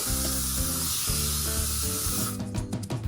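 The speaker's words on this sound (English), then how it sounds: "Gave it a spray with the Sephora Winter Spice scent" A long, steady hiss of a scented room spray over background music, cutting off after about two and a half seconds.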